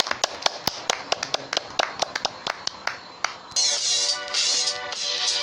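Scattered, separate hand claps from a small radio-show studio audience greeting the guests, then a denser, steadier burst of clapping that runs to the end.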